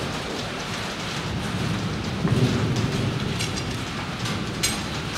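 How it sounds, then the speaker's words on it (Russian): Steady heavy rain pours down outdoors at a car repair spot, with a low rumble of thunder swelling midway and fading, all continuous and fairly loud without voices. "Дождь хочет разойтись. Громыхает, громыхает, сейчас как ливанет."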